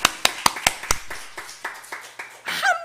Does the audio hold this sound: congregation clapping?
yes